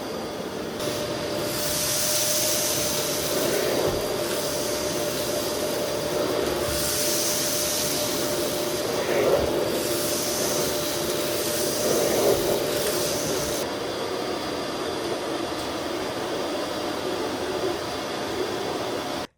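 A Eureka WhirlWind NEN110A bagless canister vacuum cleaner runs on carpet with a loud, steady motor roar and airflow whoosh, its pitch shifting slightly as the nozzle moves, and no voices.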